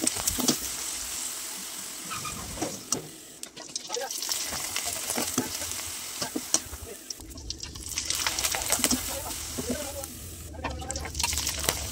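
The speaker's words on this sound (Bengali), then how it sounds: "আর একে একে এভাবেই আমি পিঠাগুলো ভেজে নিচ্ছি।" Rice-flour syringe pitha fry one by one in soybean oil in a wok, giving a steady bubbling sizzle with occasional scraping and clinks of a utensil throughout.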